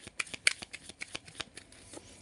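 Tarot cards are shuffled close up in a quiet room, a quick series of soft riffling slaps and flicks.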